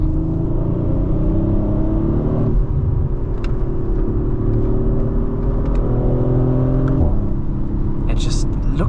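An Audi RS5 Competition Plus engine hums and drones as the car turns into corners, a continuous loud tone shifting pitch with gear and throttle changes, with faint voice over it.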